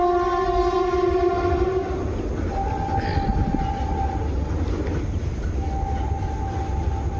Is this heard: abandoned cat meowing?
no